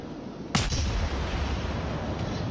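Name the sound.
naval gun salvo from cruiser Edinburgh, video game World of Warships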